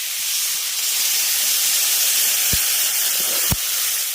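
Water poured into a pan of spiced drumstick and potato frying in a kitchen brings a steady loud sizzling hiss that holds throughout, with a couple of faint clinks of utensils and no talking.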